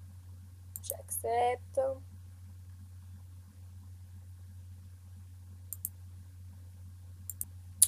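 A computer mouse clicks on a tax website, a few sharp, quiet single clicks spaced seconds apart, following a short spoken phrase over a steady low hum.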